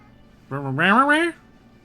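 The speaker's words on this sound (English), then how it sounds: "Goes the cat in the background." A cat gives a single drawn-out meow in a quiet room, rising and then falling in pitch, clear and fairly close, lasting under a second.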